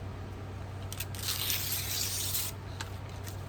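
A paper signature for a new handmade journal is slit along its fold with an envelope opener, giving a faint, brief rasping slice of about one and a half seconds with a few light taps and rustles before and after.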